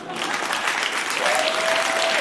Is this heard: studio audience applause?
yes